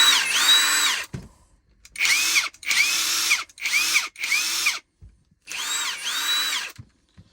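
Bauer 1/2 inch high torque brushless impact wrench run in short bursts, about six close whirring pulls of roughly half a second to a second each, separated by silences, with a slightly noisy bearing whine.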